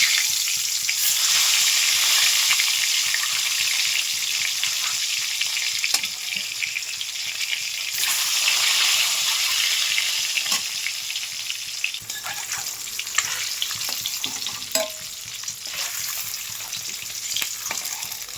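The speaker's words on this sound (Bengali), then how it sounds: "তারপর আস্তে আস্তে ডিমগুলো সামান্য ভেজে নেব।" Eggs fry in hot oil with salt and turmeric in a wok for egg malai curry, a continuous loud sizzle with occasional stirring scrapes and no talking.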